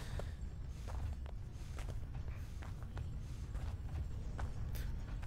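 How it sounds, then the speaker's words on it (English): Footsteps in a rollercoaster video game, a steady series of hard clip-clopping steps over a constant low background din, fairly close and moderately loud. "Well, I hear footsteps."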